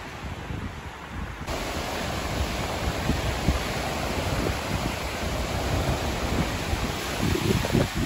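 Sea waves wash steadily onto a hot summer beach while a cool wind blows across the microphone, a constant broadband roar with no pauses, fairly loud and close, and no voices standing out.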